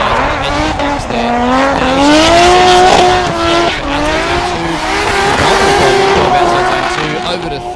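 A drift car slides through a competition qualifying run, its engine howling and rising and falling as the tyres squeal in long continuous skids, loud and close, with a commentator talking over it.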